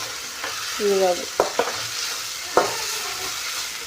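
Chopped tomato and onion fry in a pan for a potato and cauliflower dish, with a soft sizzle throughout and a few sharp scrapes and knocks as a spoon stirs them. A brief word is spoken.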